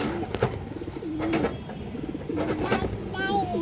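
Racing pigeons coo close by in rolling, repeated calls, with a person talking over the birds and some rustling and handling noise throughout.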